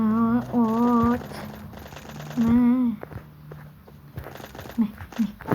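Bursts of gunfire sound in a Counter-Strike match against bots, mixed with game tones and a voice talking over the action.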